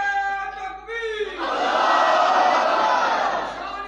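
A crowd at a Sira-un-Nabi religious conference answers the Nara-e-Takbeer slogan call with a loud, unified shout that rises after a lead voice and holds for about two seconds before fading.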